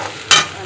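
Onion, ginger, garlic and curry leaves hit hot oil in a wok, bursting into a loud, close sizzle that starts abruptly and then settles into a steady frying hiss.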